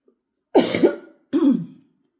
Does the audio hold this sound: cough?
yes